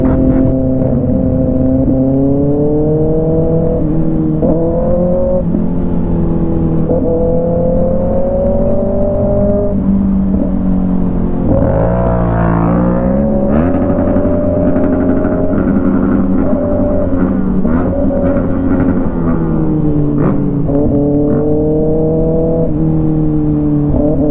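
A motorcycle engine drones steadily and loudly in city traffic, its revs rising and falling through the ride with a sharp surge midway, with no talking.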